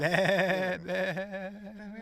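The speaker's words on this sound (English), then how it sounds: "There's a sheep for you." A sheep bleats on a farm, one loud, close, wavering call of about two seconds with a short break partway through.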